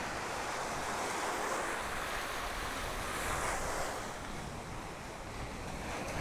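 Steady wind buffets a compact wireless microphone outdoors at a high spot, a constant loud rushing roar with no pauses and no voices.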